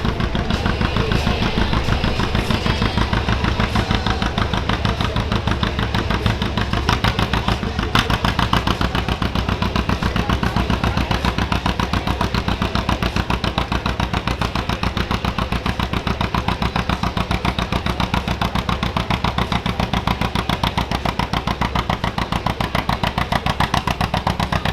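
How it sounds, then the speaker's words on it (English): A 1936 John Deere 80 tractor pulling at a tractor pull event, its engine roaring loud and steady with a dense rapid clattering firing rhythm for the whole stretch, close by. "Love the sounds of these tractors right here."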